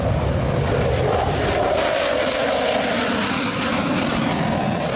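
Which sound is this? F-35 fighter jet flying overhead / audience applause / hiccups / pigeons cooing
F-35 fighter jet flying overhead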